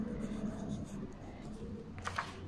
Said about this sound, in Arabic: بدنا نكتب كلمة بتعب